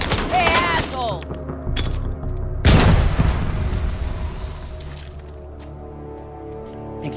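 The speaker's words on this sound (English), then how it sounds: "Nothing quite like a frag to cause offense." A frag grenade detonates in Call of Duty: Black Ops 4 with a single loud, deep boom near the middle, preceded by game voices and followed by a fading rumble under ambient battle noise.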